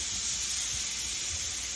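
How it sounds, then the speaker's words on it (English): Steady hot steam hissing as liquid is gradually poured into a hot pan while making chicken piccata, a broad continuous hiss with a low bubbling rumble underneath, close and fairly loud with no talking. "this steam is really hot and you really don't want to burn your face"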